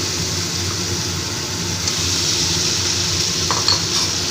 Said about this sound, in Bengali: ভালো করে মশলাটা কষিয়ে নিয়ে আবার ভেজে রাখা ফুলকপি আর আলুটা আমি দিয়ে দিচ্ছি